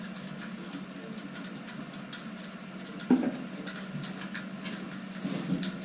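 A shower runs while a dog is bathed, a steady soft hiss of spraying water with a small splash or knock partway through, fairly faint and with no talking.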